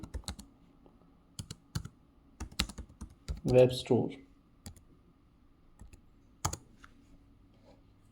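Bursts of computer keyboard typing with sharp individual key clicks and pauses between, entering a search in a web browser, close and crisp, with a short spoken phrase in the middle.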